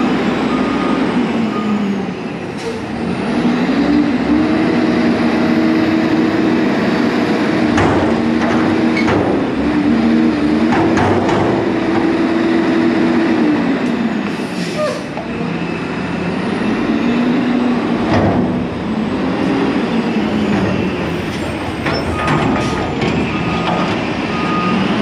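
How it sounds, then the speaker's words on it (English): A garbage truck sounds repeated reversing beeps over the rumble of its engine, with hisses and clanks of working machinery in a street setting in Las Vegas, loud and close throughout. "We got a funny looking truck here."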